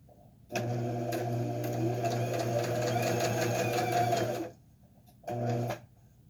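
A sewing machine straight-stitches strips for a string quilt, humming close and loud in one long steady run, then a short second burst after a brief pause.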